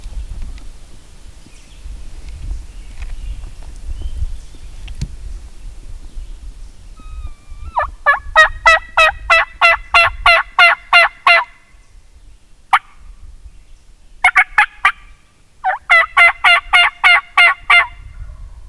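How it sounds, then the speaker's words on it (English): Wild turkey gobbler sounding off outdoors in early season, several rapid rattling gobbles in quick bursts, fairly close and loud, separated by quiet pauses over a low background rumble. "They're actually moving, so we'll see if I can get him to gobble again."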